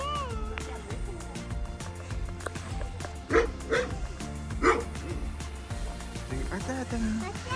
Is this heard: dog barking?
yes